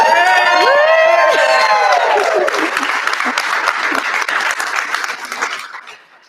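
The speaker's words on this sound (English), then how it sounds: "So everybody standing up and give a big cheer to Elizabeth Childers." An audience at a tech talk on big data analytics tools bursts into loud applause with cheers and whoops, steady clapping that carries on for several seconds before fading out.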